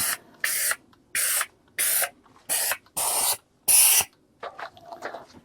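A compressor-fed sprayer blasting compressed air in seven sharp, evenly spaced hissing bursts, close and loud, followed by a few fainter, shorter puffs.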